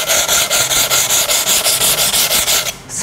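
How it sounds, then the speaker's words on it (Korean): Steady back-and-forth rubbing of wet diamond sandpaper on a ceramic brunch bowl, about fourteen even strokes in a brisk rhythm, loud and close, stopping just before the end. "다이아 사포라는 걸 가지고 물을 묻혀서"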